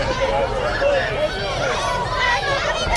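A crowd at an Australian pro wrestling show reacting to the wrestler Skull Reaper Argy, a continuous murmur of cheering and chatter from a mid-distance audience with a commentator speaking over it.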